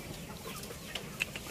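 Faint, scattered clucks from a large Indio Gigante chicken sound over a soft background hiss, with a couple of slightly sharper notes near the end.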